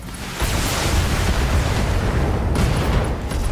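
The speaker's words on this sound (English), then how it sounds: "Oh hey, ammo explosion." Ammunition cooks off inside a mech in a video game, a loud booming blast with a sharp onset, followed by sustained rumbling and a second burst near the end.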